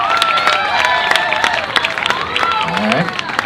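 An audience at a live community song showcase claps and cheers, a steady crackle of applause with scattered shouts, loud and close throughout.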